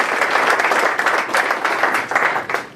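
Audience applause at a Mexican talk forum introducing author Manuel Espino, a full, even burst of clapping from a crowd with no talk over it.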